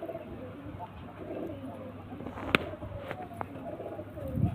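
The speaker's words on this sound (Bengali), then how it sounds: "এই দুটো পাট্টা পায়রা দেখুন, ম্যাট্রাস পায়রা" Pigeons, a pair of show birds kept in a loft, give soft low cooing calls close by at moderate volume, with occasional light taps and rustles and a faint background hum.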